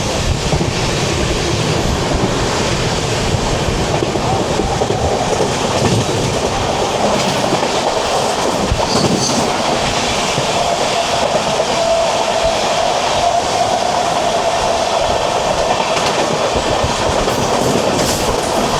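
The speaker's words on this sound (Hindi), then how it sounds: "और ये ट्रेन कालका शताब्दी अभी अभी अपना स्टॉप लेकर के यहाँ से निकली" The Kalka Shatabdi train runs on rails, pulling away from its stop with a loud continuous rumble and rattle and faint rhythmic clatter of the wheels throughout.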